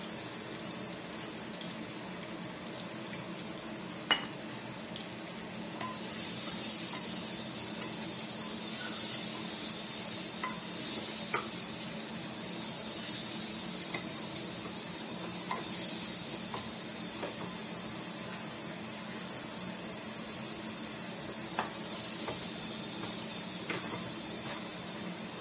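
Mutton fries in a pan with a steady, even sizzle that holds for the whole stretch, broken by occasional faint ticks and scrapes, and no voices.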